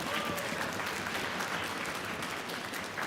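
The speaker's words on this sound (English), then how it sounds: "Let's give them a round of applause, shall we?" A concert audience at a university symphony orchestra performance breaks into sustained applause for the orchestra students, a dense, steady wash of clapping that fills the whole clip with no talk over it.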